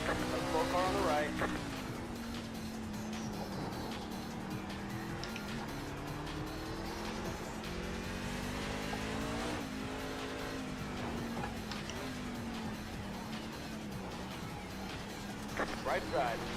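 Race cars in the iRacing sim during a road league race, engines droning steadily and shifting pitch as cars pass close by, with a voice talking over them throughout.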